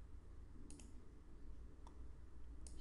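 A computer mouse clicks on a calendar in scheduling software: three sharp, quiet clicks spaced apart over steady low background hum.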